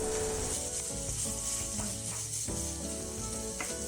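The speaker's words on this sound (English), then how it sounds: "Then we stir fry the pork and add in some chopped garlic." Pork stir-fries in hot oil with chopped garlic for a spicy Japanese tantanmen topping, giving a continuous bright sizzle that runs steadily beneath louder background music.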